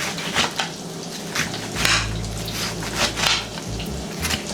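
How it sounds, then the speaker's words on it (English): A knife finely chops and dices onions on a kitchen board for butter chicken, making close, irregular crisp taps and scrapes spaced through the clip with some soft wet squishing. "I'm just cutting the onions now. I already cut up the peppers and I'm just doing some finely chopped diced onions"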